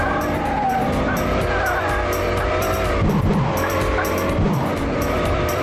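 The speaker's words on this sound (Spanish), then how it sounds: "Estoy acelerando a toda velocidad." A police car in an offroad patrol video game accelerates at full speed, giving a steady, loud synthetic engine drone with tire squeal layered over it. The sound continues throughout with no pauses.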